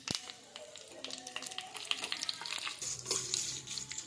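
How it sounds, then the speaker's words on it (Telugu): Curry leaves, mustard seeds and dried red chillies frying in hot oil in a pan on the stove, a close, steady crackling sizzle with sharp pops and a few stirring clinks throughout. "కరివేపాకు వేసుకొని ఫ్రై చేసుకోవాలి."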